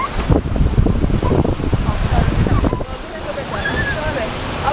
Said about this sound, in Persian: آبشار است. نیست آبشار است.